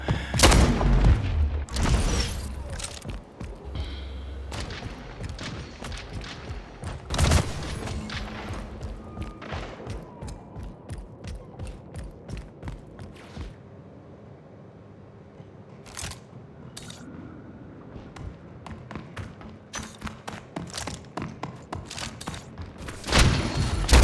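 Video game gunfire crackles in rapid bursts and single sharp shots with thumps and booms, dense and irregular, dipping briefly before picking up again at moderate loudness.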